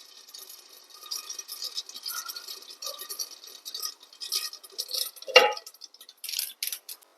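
Mustard seeds crackling and spluttering in hot coconut oil under a lid, a steady close sizzle with scattered sharp pops and a louder burst of popping near the end, no voices.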